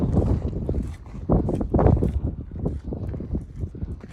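Wind gusting across open Kinder Scout moorland in the Peak District, a loud, low, rumbling buffet on the microphone that swells and eases in irregular waves, with no one speaking.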